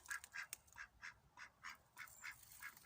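A duck quacks repeatedly in an even, rhythmic series of about ten calls, fairly close and clear against quiet surroundings, with no one talking.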